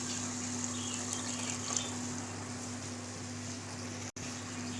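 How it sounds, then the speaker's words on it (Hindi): Water poured steadily into a pan of cooking mince, a continuous loud wash of liquid that runs nearly the whole time before stopping abruptly near the end, with no talk over it. "अब मैं इसमें आधा गिलास पानी डाल रही हूँ"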